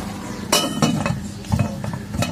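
A metal lid clinks onto a pot of nearly cooked rice holding fish wrapped in bottle gourd leaves, several sharp light clinks and taps over a low kitchen hum.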